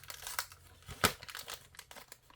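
Crinkling plastic bag holding model car rims for a Revell Boss 351 kit, faint close rustles and crackles in short bursts with one sharper crunch, and no talking.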